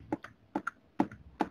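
Keys on a computer keyboard clack in a light irregular pattern, about eight close, soft taps in pairs, with no voices.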